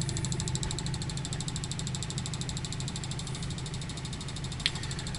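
A reed switch pulse motor with a six-magnet rotor and a three-magnet timing wheel runs steadily nearby, giving a fast, even rhythmic ticking and buzzing hum that holds constant, with one brief click near the end.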